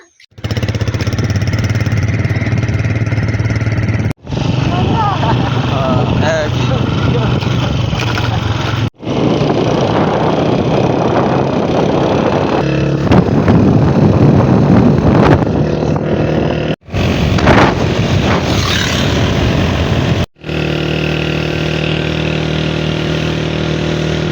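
A scooter engine runs steadily while riding on the road, a loud continuous drone mixed with wind buffeting, broken by a few brief drops in level.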